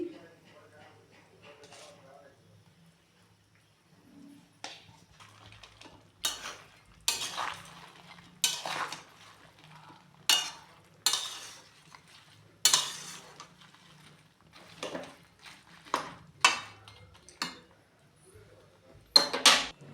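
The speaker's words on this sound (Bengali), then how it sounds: "নুন হলুদটা ভালো করে মিশিয়ে নিয়েছি" Salt and turmeric being stirred into a sweet, sour and spicy jujube pickle in a pot. A dozen or so sharp spoon scrapes and clinks come in irregular bursts, close and fairly loud, after a quiet, murmured start.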